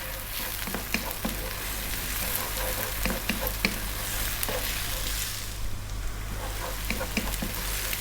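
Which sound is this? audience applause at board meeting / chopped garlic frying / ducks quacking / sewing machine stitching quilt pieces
chopped garlic frying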